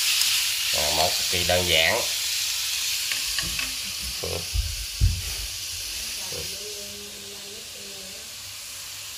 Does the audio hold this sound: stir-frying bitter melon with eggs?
yes